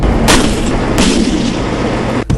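Indian Army mechanized forces on exercise produce loud, heavy artillery booms, two strong blasts in quick succession over a dense, continuous roar.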